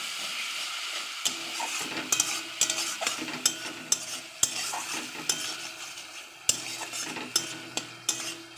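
A spoon stirs turmeric through koi fish curry with papaya in a frying pan, with steady sizzling broken by a series of sharp utensil scrapes and clinks against the pan, close and moderately loud with no talking.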